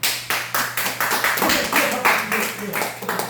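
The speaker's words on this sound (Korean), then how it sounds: "박수 한번 치겠습니다" A church congregation claps in a fast, even rhythm of sharp, close hand claps, with a low steady hum underneath.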